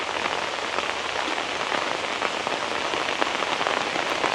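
Heavy rain pours steadily in Sri Lanka during the rainy season in the early morning, a dense, even hiss of drops hitting surfaces that stays constant throughout, with no voices.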